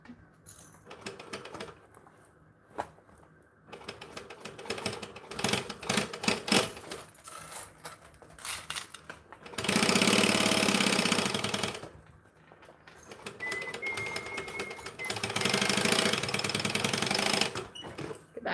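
A sewing machine stitches in bursts, running forward and then back-stitching. The rapid mechanical rattle starts and stops several times, and the longer runs are loud and close.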